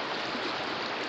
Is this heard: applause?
no